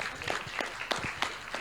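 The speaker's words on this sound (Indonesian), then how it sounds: "Boleh tepuk tangannya Bapak Ibu sekalian?" An audience at an Indonesian book launch talk show on the green transition gives a short round of scattered hand claps, a patter of individual claps heard in the room without speech.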